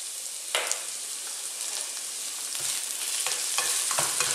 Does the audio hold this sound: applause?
no